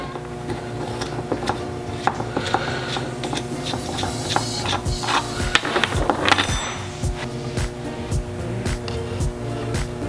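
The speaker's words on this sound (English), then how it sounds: "Thread it on and off a couple times, make sure it's nice and clean." Lang thread restorer tool turned on and off a bolt with stripped threads, making irregular metallic scraping and ratcheting clicks that are close and moderately loud, with a faint steady hum behind them.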